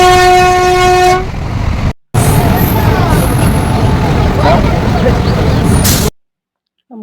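At Kolkata railway station, a train's horn sounds one loud, sustained toot, followed by the heavy rumble and clatter of the train. The sound breaks off abruptly twice into silence.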